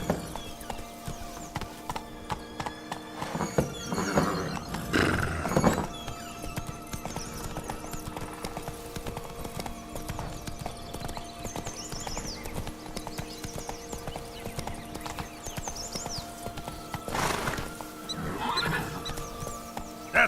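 Roach, a horse in The Witcher 3, clip-clops with steady galloping hoofbeats across a noisy game soundscape, with brief louder bursts that may carry a neigh.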